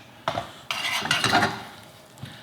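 Pasta is twirled into homemade pesto sauce in a dish, giving a few wet, clinking scrapes of a utensil against the bowl, close up and quiet.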